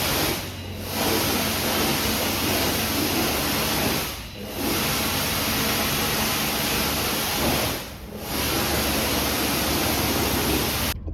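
Steady broadband water spray rinsing soap off a Mahindra BE6 electric car during a PPF maintenance wash, continuous and loud, broken by three brief pauses in the flow.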